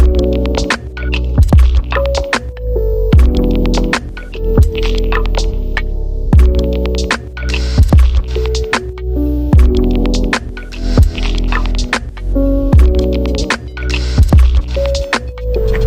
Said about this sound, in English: just made it into the car wash